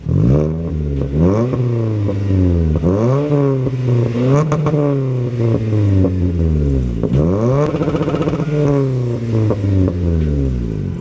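A Toyota Corolla with a loud aftermarket exhaust revs repeatedly, the engine pitch rising and falling in a series of throaty pulls, close and with no voices.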